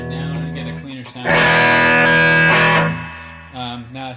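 Electric guitar played clean through a Peavey Classic combo amp, ringing out loud in a sustained strummed burst between quieter picked phrases.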